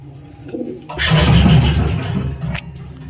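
Young breeding pigeons coo in a loft, a dense, rolling murmur of several birds that swells loud and close after a short quieter start and carries on steadily.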